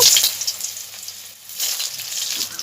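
Loud, steady sizzling of eggplant frying in hot oil, crackling continuously close by.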